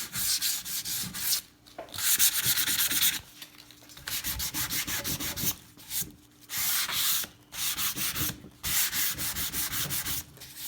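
Sandpaper is rubbed by hand over a painted wooden toolbox in close, loud bursts of scratchy strokes, separated by short pauses.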